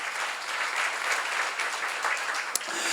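A seminar audience applauds together in a continuous, fairly even wash of clapping that fills the room, with one sharper clap standing out near the end and no speech.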